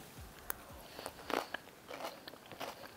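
A simple pomegranate salad is being eaten close up, with soft crunchy bites and chewing at an irregular pace, faint and with no talk.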